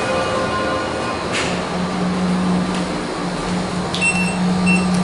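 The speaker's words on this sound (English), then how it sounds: "Pretty basic modern Schindler elevators for a Best Western property" Ride in a modern Schindler 3300 machine-room-less elevator at a Best Western hotel: a steady low motor hum and airy cab rumble throughout, with a couple of faint clicks and a soft chime near the end.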